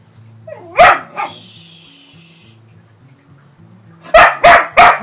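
A dog barks in a backyard during a potato harvest: two sharp barks early on, then a quick burst of three loud, close barks near the end, with quiet low background hum between.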